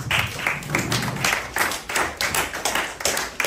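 A church congregation claps together in a steady, rhythmic burst of applause that fills the room, with no voices standing out above it.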